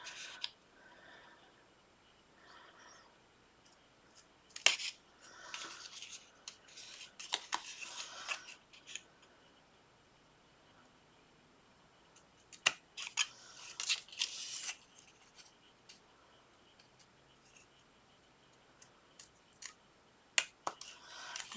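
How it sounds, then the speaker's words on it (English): Scissors cutting paper along score lines into a small triangle, with crisp close snips in irregular bursts separated by quiet pauses. "so where the score lines are is where we're going to cut our little triangle"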